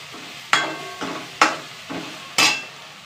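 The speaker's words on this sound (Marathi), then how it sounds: "आता आपली आलं लसूणची पेस्ट इथं चांगली तळत आलेली आहे" Ginger-garlic paste frying in a pan with onions for chicken biryani, three sharp scraping stirs over a soft background sizzle, loud and close, with no voices.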